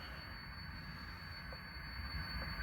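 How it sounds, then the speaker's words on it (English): A model train runs on its track on a 1970s Milwaukee Road branch layout, a faint steady low rumble of wheels with a thin high whine throughout and no talk. "You can start the train running, and just basically just starts it running"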